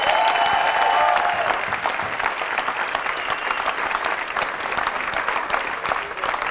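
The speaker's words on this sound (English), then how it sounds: "Let's clap it up for each other and each other's questions." A London audience at a live question-and-answer event claps steadily for several seconds, a dense even wash of many hands, with a brief voice at the start.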